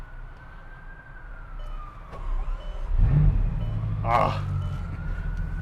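A Bugatti Chiron Sport, a 2021 car, starts up: a rising electric whine leads into a deep rumble as the engine catches and settles into a steady low idle, with a short voiced exclamation near the start.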